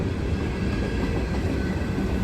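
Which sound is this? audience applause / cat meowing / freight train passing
freight train passing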